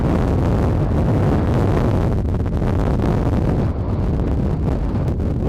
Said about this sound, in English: Check out the wind and the thing up here.